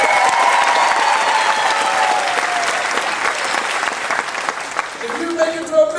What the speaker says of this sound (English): every time you get a question correct, the audience is going to applaud.